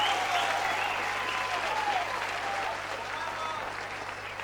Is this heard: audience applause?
yes